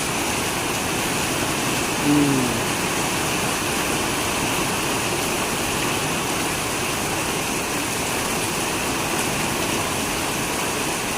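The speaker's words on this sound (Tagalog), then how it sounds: "Ayan, lakas ng ulan, guys." Steady, dense roar of heavy rain pouring down continuously, loud and close, with no pauses.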